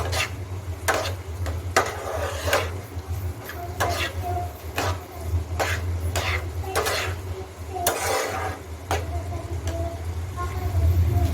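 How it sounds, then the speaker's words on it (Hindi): A spoon stirs a cooking mixture in a pan with a steady low rumble, over and over, broken by frequent sharp clinks and scrapes of metal against the pan. "लगातार चलाते हुए पका लेना है"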